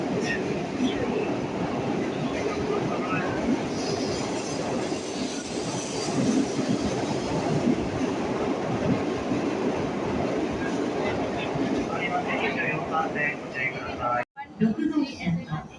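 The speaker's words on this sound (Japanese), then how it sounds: "Kodama 711 bound for Shin Osaka is arriving at track number" A Shinkansen bullet train pulls into a Tokyo station platform, its rolling rumble and wheel squeal steady and close, while a station announcement plays over the sound.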